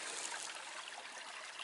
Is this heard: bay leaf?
no